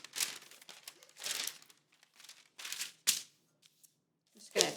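Parchment paper being handled and crinkled while baking a chocolate cloud cake, a series of crisp rustling bursts and sharp crackles separated by short pauses, close and fairly loud.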